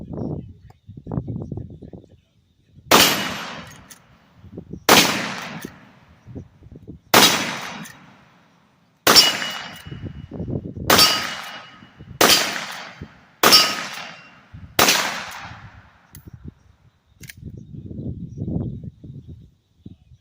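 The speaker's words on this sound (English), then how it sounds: "Shot round." A suppressed Rossi R92 lever-action rifle fires .38 Special rounds, eight sharp, loud cracks spaced roughly every second or two, each ending in a short decay, with quiet talk and handling noise before and after.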